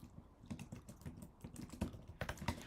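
Fast, uneven keystrokes tapping on a computer keyboard during a coding session, close and fairly quiet, with small bursts and brief pauses between runs of keys.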